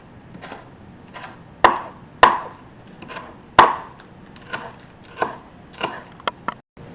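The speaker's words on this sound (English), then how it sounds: "Next, we're going to chop up some green onions." Green onions are chopped with a knife on a board: a steady run of soft close taps, punctuated by a few louder, sharper knocks.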